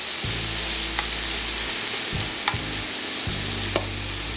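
Ground meat sizzles and browns in a skillet for street tacos, a steady loud fry with a few scraping stirs and low thumps from the pan.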